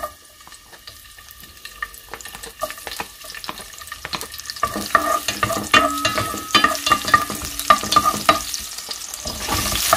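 Garlic sautés in a pan with sizzling frying and stirring scrapes that grow louder and denser partway through, close and continuous with no talk.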